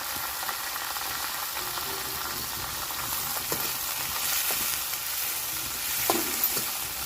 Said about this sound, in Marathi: दोडके ना चांगले तेलामध्ये परतून घ्यायचे